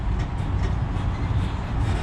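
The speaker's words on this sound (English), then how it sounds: "We are now approaching the Mickey and Friends tram stop, which serves the Mickey and Friends parking structure." A Disneyland Resort tram rolls toward the Mickey and Friends parking structure, a steady low rumble of wheels and motor carrying on evenly, with no voices heard.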